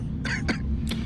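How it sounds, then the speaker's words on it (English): Two or three short, rough coughs in quick succession, close and fairly loud over a low background hum. "The coughing on cue."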